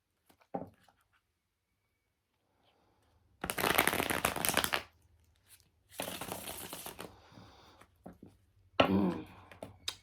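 Tarot cards are shuffled in several bursts of rapid riffling, each a second or so long, with quiet pauses and soft handling sounds between.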